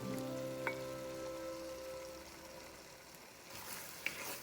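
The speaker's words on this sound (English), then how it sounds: "you can add 2 big chopped tomatoes to this." Chopped tomatoes and green chilies fry in a pan with a quiet, fairly faint sizzle, a steady hiss marked by a couple of small clicks and a brief rise toward the end.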